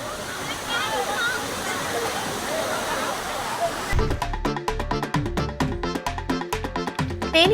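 Aliyar Kaviaruvi waterfall near Pollachi, with tourists bathing beneath it, roars with a steady, dense rush of falling water for about four seconds before music abruptly takes over and buries it.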